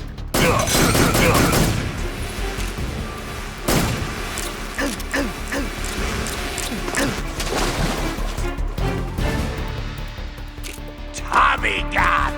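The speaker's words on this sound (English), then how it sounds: "Tommy gun!" Rapid bursts of Tommy gun fire in the game Metal Gear Solid 3 Snake Eater, crackling volleys with sharp onsets and an early heavy blast, loud and close, with voices at times.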